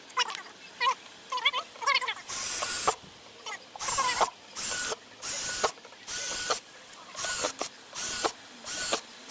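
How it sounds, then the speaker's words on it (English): A drill bores drainage holes in a plant pot for an avocado tree, a run of short whirring bursts in a regular stop-start rhythm, close and fairly loud, after some light handling noise at the start. "First thing I'm going to do is drill some holes, some drainage holes"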